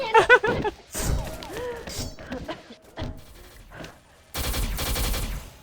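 AK5-A rifle fire in the shooting game XSHOT comes in rapid automatic bursts and single cracks, with thuds between them and a long dense burst near the end, while a player talks over the action.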